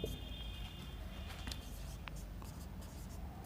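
Chalk or marker scratches briefly on a classroom board as a point is written, faint short strokes over a quiet room hiss.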